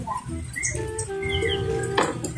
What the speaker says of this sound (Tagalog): Hugas sa plato.